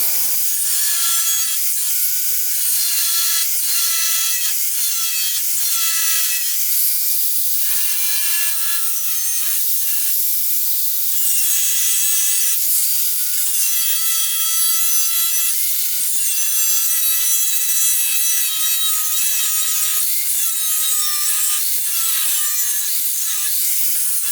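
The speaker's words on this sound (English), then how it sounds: "I figured I may as well go cut this little piece out too before we go ahead and make patches" Metal being cut from the body of a 1968 Triumph TR250 under restoration: a continuous, loud, close-up cutting noise with shrill ringing, squealing tones that hold steady for the whole stretch, with no talking.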